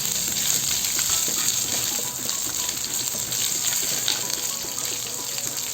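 Onions sizzle steadily in a hot pan for sweet and sour pork, a dense continuous frying hiss with light stirring, close and fairly loud, no talking.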